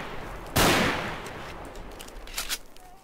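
A pistol shot rings out in S.T.A.L.K.E.R.: Shadow of Chernobyl with the Complete 2009 mod. One loud, close crack with a long echoing tail is followed about two seconds later by a couple of quieter shots.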